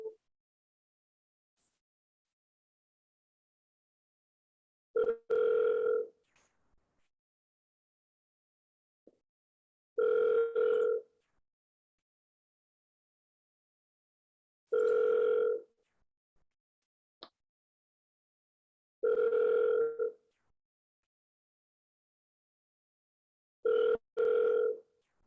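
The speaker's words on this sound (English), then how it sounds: "Second call dialing." An outgoing phone call rings back five times, evenly spaced, single tonal rings about five seconds apart with silence in between, fairly clear and close.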